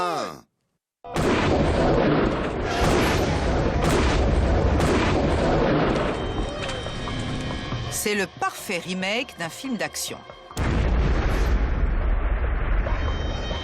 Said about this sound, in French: Jamie déclenche l'explosion et Adam saute quand la voiture vole en éclats.